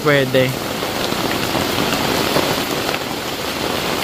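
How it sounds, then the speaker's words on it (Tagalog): Heavy rain pours down steadily in a dense, loud hiss at a campsite in Daraitan, Tanay, Rizal, with a brief voice near the start. "Hinihintay ko lang tumila yung ulan kasi masyadong malakas yung ulan"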